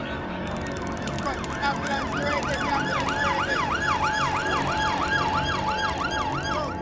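A police siren wails, rising and falling in a steady repeating cycle, fairly close and loud, over a continuous background rumble.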